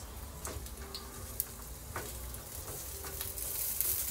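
Sliced onions frying in a pan for Japanese yakisoba give off a soft, continuous sizzle with occasional light ticks and scrapes, faint and steady from start to finish.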